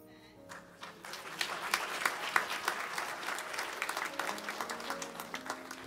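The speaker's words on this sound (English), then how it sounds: "I heard the claps going." A church congregation breaks into applause during a service, claps building from scattered hands into a steady, close round of clapping that holds for several seconds.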